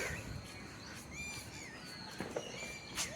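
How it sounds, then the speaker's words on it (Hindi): Birds chirp and tweet in short, high calls over a steady outdoor hiss in a hot Indian village, fairly faint and somewhat distant, with no talking. "पंछी तो चहचहा रहे हैं"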